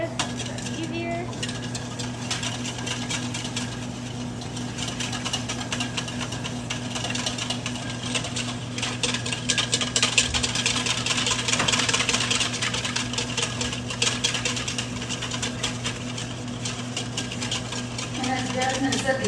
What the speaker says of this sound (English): she's whisking the entire time she's putting in that olive oil